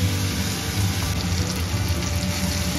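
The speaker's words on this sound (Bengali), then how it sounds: "বাটি ধুয়ে একটু জল দিয়ে দেব।" Running water from a kitchen tap rinsing a bowl while cooking a Bengali lote fish curry, a steady broadband gush of flowing water that lasts the whole stretch, close and continuous with no voices.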